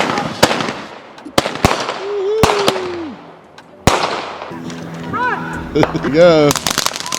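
A homemade Fourth of July 2020 fireworks show, with loud, sharp bangs and crackles, whistling rockets rising and a dense burst of pops at the end, heard close by while people talk.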